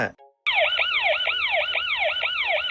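A loud electronic siren from a solar 4G security camera wails in fast repeating sweeps, continuous and close, starting abruptly after a brief moment of silence.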